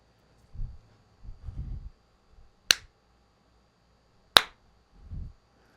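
Two sharp, isolated hand claps act as a sync clapper at the start of a recording session, spaced well apart and loud against quiet room tone, with brief low murmurs of talk in between.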